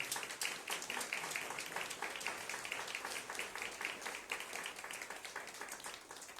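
Applause from a church congregation during a sermon, a fairly faint but steady patter of many hands clapping with distinct individual claps audible throughout, no voices over it.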